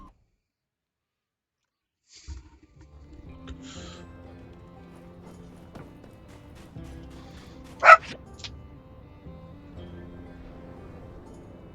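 A puppy in the farming video game My Time at Sandrock gives one sharp, loud bark partway through, with quieter game music and soft clip-clop sounds playing around it.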